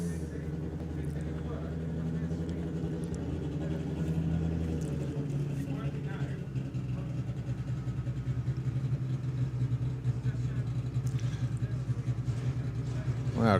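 Kev Jenkins' Fraudster, a 4-cylinder doorslammer drag racing car, rumbles with a steady, loud engine drone throughout, under a commentator's voice at a drag strip.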